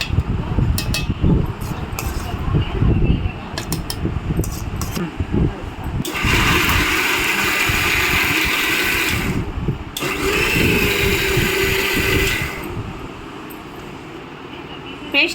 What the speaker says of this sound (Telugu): మిక్సీ పట్టుకుంటున్నా